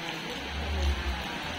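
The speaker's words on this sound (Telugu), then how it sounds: "చూడు, ఎంత భయంకరమైన వానగా." Heavy rain falls outside a village house, a steady, even hiss with a low rumble underneath, with no voices.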